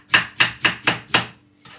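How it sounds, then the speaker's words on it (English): Knife chopping pineapple on a cutting board: five evenly spaced, crisp thuds close up, followed by a softer sixth chop, with no voices. "So pineapple, that's what we're going to cut up right now."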